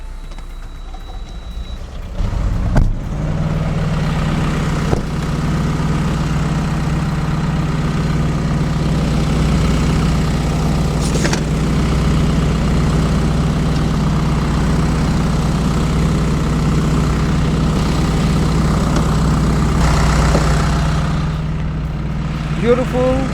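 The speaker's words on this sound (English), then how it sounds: "And now I will show you the engine." A 2019 Isuzu NPR HD reefer truck's engine idles steadily at close range, a constant low drone with a faint hum above it that holds for about twenty seconds before easing slightly at the end.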